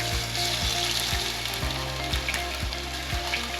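Ginger garlic paste sizzling and frying in hot oil in a pot for beef pulao, a loud continuous close crackle with a rhythmic low thumping pulse throughout and no talking.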